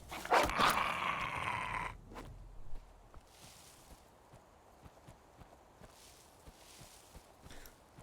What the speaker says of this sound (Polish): Strasznie dużo tutaj tych tych piesków.